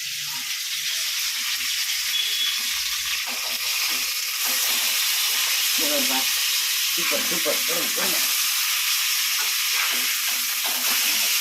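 Jalebi fish frying in hot oil, a constant bubbling sizzle and hiss, with a voice speaking briefly over it partway through.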